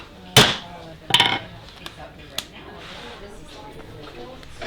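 A six-prong chisel is hammered through leather to punch stitching holes, giving two sharp, loud strikes followed by a couple of lighter taps against a quiet background.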